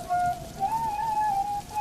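Heavy rain and cold wind make a steady, broad hiss, with a thin whistling gust wavering above it throughout. No one speaks.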